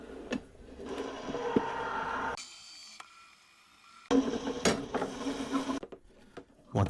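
An AccuQuilt fabric cutter cranking quilt binding fabric through its die, a steady close mechanical whir and rattle that stops briefly in the middle, then resumes with clicks and knocks.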